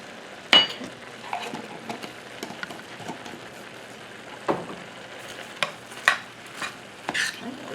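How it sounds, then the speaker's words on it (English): Onions and garlic are stirred in a pot over a low sizzle, with scattered scraping and clinking of a utensil against the pan and sharper knocks at irregular intervals. "let's stir this up"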